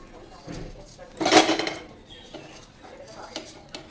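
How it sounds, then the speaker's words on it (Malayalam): Wheat halwa with jaggery is stirred in a non-stick pan: quiet scraping with a sharper burst of spoon-on-pan clatter about a third of the way in, then softer intermittent stirring. "ഇനി നമുക്കിതൊന്ന് ഇളക്കി കൊടുക്കാം"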